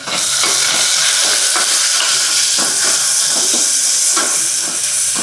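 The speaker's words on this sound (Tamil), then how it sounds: "வெங்காயம் வதங்கிடுச்சா?" Onions sautéing in a pan for mushroom biryani give off a loud, steady sizzle and steamy hiss, with faint stirring scrapes running through it and no voices.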